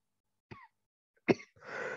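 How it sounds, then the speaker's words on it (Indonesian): Two short dry coughs from a man during an online university lecture, spaced apart, the second stronger, followed by a burst of breathy noise. "Aduh, sorry saya agak batuk ya"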